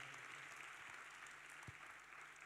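Audience at the All Africa Pension Summit 2025 giving a round of applause for Laika, a climate speaker, as she comes on stage: sustained even clapping from many people, fairly distant and soft in a hall.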